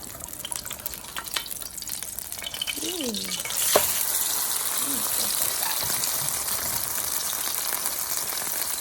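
Korean BBQ meat sizzles on a grill with a constant bright hiss. A sharp clatter cuts in midway as the meat is flipped, and a voice briefly sounds in the background.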